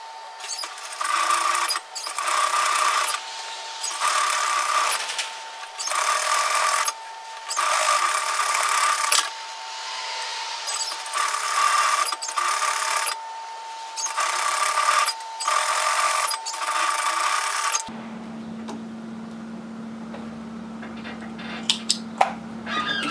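A sewing machine stitching the side seam of a woven-fabric cape runs in repeated bursts of steady whirring separated by short pauses, then stops near the end, leaving a quieter hum and a few small clicks.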